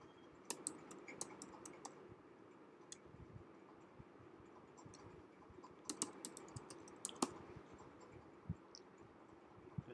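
Password being typed on a computer keyboard: soft, close key clicks come in scattered bursts and single taps over a quiet background, with no one talking.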